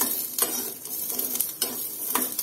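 Garlic roasting on medium heat in a pan hisses softly and steadily, broken by several sharp scraping strokes of a spatula stirring it, close up with no talking.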